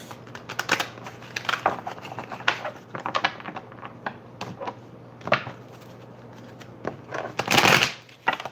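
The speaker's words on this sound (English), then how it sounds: "So I feel like clearly it's been a decent shuffle." Repeated riffling and snapping of a deck of cards being shuffled up close, in irregular bursts with short pauses, ending in a louder flurry.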